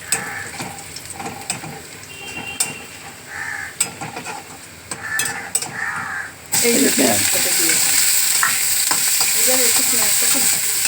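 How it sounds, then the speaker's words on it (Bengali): Garlic and onion frying in a pan, a steady loud sizzle that starts abruptly partway through, with stirring scrapes and a few faint bird calls earlier over quieter kitchen noise. "রসুন আর পেঁয়াজটাকে ভাজবো"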